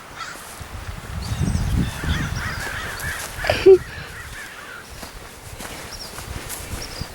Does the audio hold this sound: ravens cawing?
yes